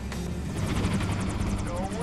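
Helicopters flying overhead in the shooter game Wolfenstein: The New Order, a steady loud rotor drone under game music, with someone talking over it throughout.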